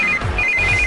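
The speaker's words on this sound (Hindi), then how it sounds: "इस वक्त दीदी का फोन।" A telephone rings with an incoming call, a short electronic ringtone warbling clearly and loudly, with a faint low rumble underneath.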